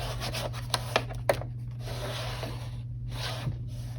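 Easter card stock for a tag-shaped card folio being burnished by hand, giving soft, close scraping rubs with a few sharp taps early on, over a low steady hum.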